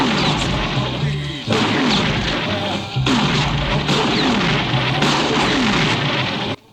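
Loud gunfire from the 1986 thriller Manhunter, a dense, roaring barrage of shots that fills the whole stretch with only brief dips before it cuts off abruptly at the end.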